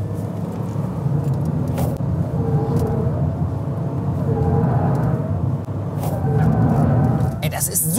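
Dacia Sandero driving through a curve while lightly braking, heard from inside the cabin as a steady low engine and road rumble, with a person talking throughout.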